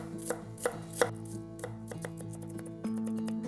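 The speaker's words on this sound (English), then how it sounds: "And I think I'm dicing this, right?" A kitchen knife dices food on a cutting board for a spinach tortellini soup: a run of crisp, close chops, heavier at first and then lighter and quicker, before a steady low hum takes over.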